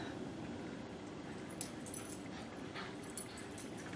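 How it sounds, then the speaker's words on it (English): Dogs playing and tearing around in a room where someone knits with DK felted tweed yarn, with faint whimpers, yips and jingling tags buried in steady background noise, distant rather than close. "And you'll see the dogs carousing."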